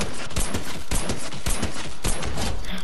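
Rapid bursts of gunfire in Fortnite crackle loud and close in a dense, continuous volley lasting nearly three seconds, with no voices.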